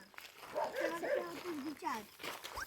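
High, wavering whimpers and whines from puppies, fairly close, continuing on and off with a short yip near the end, beside an empty highway.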